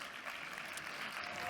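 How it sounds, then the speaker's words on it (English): Faint, distant applause from a conference audience welcoming a panelist to a payments panel, a brief steady wash of clapping with no talk over it. "Let's give Radhika a big round of applause."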